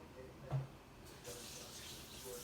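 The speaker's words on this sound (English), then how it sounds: "I'm going to use some cold water to rinse some of the blood off of the liver" Cold tap water runs into a kitchen sink while beef liver is rinsed, a soft, steady hiss with a faint splash early on, quiet and somewhat distant.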